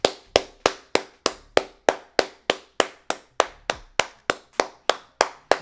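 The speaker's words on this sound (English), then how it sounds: "Clap it up." Sharp hand claps land one after another at a quick, steady pace, about three each second, loud and close, with nothing else under them.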